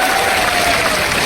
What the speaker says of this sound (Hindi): यारो एक बार जोरदार तालियां बजाए स्वागत कर।